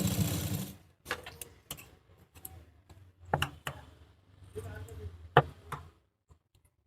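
Sewing machine lock-stitching the seam of an A-line gown, short bursts of rapid stitching broken by pauses, close up, with someone speaking quietly in between.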